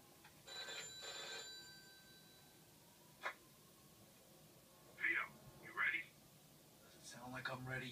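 Old-style telephone bell ringing inside a 1940s-era apartment in the video game Mafia 2, two short bursts at the start, then quieter clicks and a couple of brighter chirps, with a voice coming in near the end.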